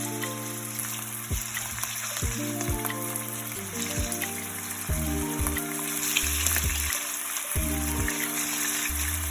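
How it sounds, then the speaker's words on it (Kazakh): Meat frying in hot oil for a Thai-style beef dish, with a steady crackling sizzle and scattered pops under sustained tonal background sounds. "Майымыз қызғаннан кейін етімізді саламыз."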